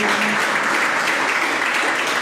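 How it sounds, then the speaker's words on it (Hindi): Steady applause fills a spiritual discourse hall for a couple of seconds, a dense, even wash of clapping from a seated audience. "तालियां बजाओ उनके लिए।"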